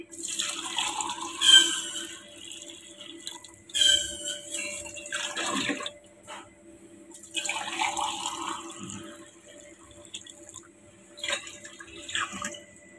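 Water is poured into a pot of rice in uneven bursts, splashing, with a few pauses between pours, close by and fairly loud, with no talking.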